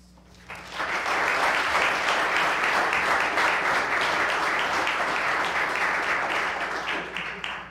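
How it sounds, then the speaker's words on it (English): Sustained applause fills town board chambers during a municipal meeting, a dense even wash of many hands clapping that swells quickly and holds steady before tapering off. "can we please hold the applause?"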